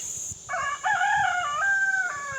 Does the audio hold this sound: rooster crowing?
yes